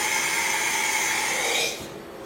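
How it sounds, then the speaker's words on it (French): Five-axis 3+2 milling machine running, giving a steady high-pitched whine and hiss with layered tones that stays loud and close, then drops off sharply near the end. "C'est ce qu'on appelle une fraiseuse 5 axes. Dans notre cas, c'est une 3+2."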